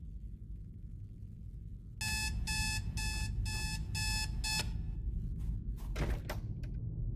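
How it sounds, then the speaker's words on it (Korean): An alarm clock in an indie horror game set in a motel rings in a rapid series of loud electronic beeps over a low room hum, then stops, followed by a few soft thuds. "알람을 설정하고 다시 자."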